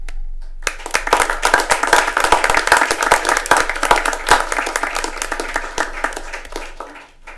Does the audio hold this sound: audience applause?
yes